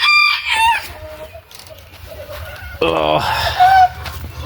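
Bantam chickens clucking and calling around their coop, a crow-like call rising midway and bright squawks near the end, with a brief spoken exclamation over the birds.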